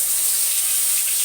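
Ginger, garlic, onion and green chilli drop into a hot pan for an egg omelette curry with yogurt, giving a steady, close sizzling hiss that holds evenly throughout with no talking.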